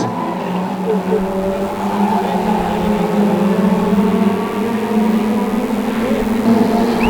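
Stock rod race cars circling the oval at Cowdenbeath Racewall in the final laps, a continuous loud drone of several engines with shifting pitch, close and sustained, with a faint voice mixed underneath.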